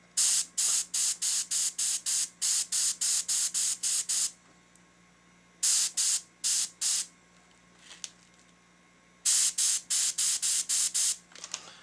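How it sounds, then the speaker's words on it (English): An airbrush spraying paint onto a taxidermy bass, firing in rapid bursts of short hissing pulses, evenly spaced, in three clusters separated by brief pauses, close and loud. "I'm gonna go ahead and set my airbrush, see if I can get some more going here."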